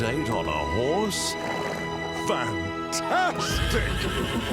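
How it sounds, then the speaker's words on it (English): A horse lets out several loud, shaky neighs and whinnies close by, with quick pitch rises and falls, and hoof clops and movement noise follow at the end. "Arriving for a hot date on a horse?"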